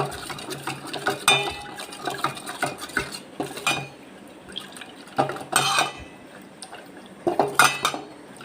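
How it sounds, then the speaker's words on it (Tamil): Flour is mixed into water by hand or with a spoon, producing close, intermittent scraping and sloshing stirs with short clinks of utensil against a pot, coming in irregular bursts with quiet gaps between. "அழகாக கையிலையும் கரைச்சிக்கலாம், கரண்டியாலையும் கரைச்சிக்கலாம்"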